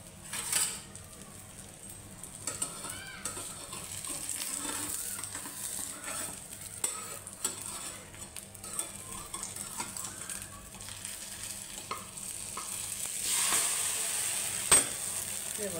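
Two-egg omelette frying in a pan and being turned, a soft steady sizzle with scraping and light tapping from the spatula throughout, swelling louder near the end.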